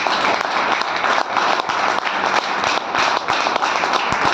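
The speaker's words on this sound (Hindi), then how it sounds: "आज मैं फतेहाबाद टीम के लिए जोरदार तालियां चाहूँगा" Audience applause for the Fatehabad team at a public program in Fatehabad, Haryana: dense, steady clapping from a crowd, loud and continuous throughout.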